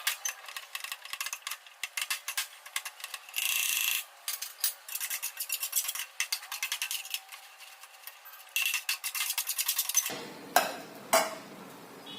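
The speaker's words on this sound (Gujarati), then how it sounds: "એક ચીઝને આની અંદર છીણી લેવાનું છે." Cheese grated against a metal grater into a dish for a Surat-style street-food egg recipe, a close run of bright rasping strokes in uneven bursts, with a few sharper scrapes near the end.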